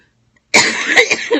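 A sudden burst of harsh coughing after a brief silence, several rough coughs in quick succession, close and loud.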